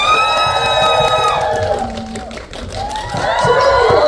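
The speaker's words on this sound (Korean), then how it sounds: "박수 부탁드릴게요" A cinema crowd at a movie stage greeting claps and cheers loudly, with high shrill screams and whoops rising and falling over the continuous applause.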